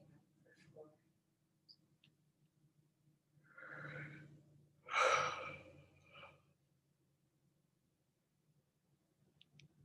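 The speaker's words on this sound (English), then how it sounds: "So, breathing in for 4, breathing out for 4." Paced yoga pranayama breathing, with a slow audible inhale and a fuller exhale heard up close in a quiet room, a gentle sigh-like breath cycle without speech.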